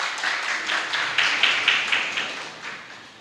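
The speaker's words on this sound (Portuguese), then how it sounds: "Aplauda o nome do nosso Senhor" A church congregation claps in praise for the Lord, a quick, fairly even run of palm slaps, moderately distant and softening toward the end with no talk over it.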